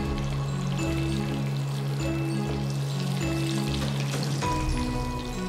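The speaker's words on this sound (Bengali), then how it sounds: "এরকম সোনালি করে ভেজে ভেজে।" Chapli kebab frying in hot oil, a steady close sizzle that carries on without a break alongside a low hum and faint tonal lines.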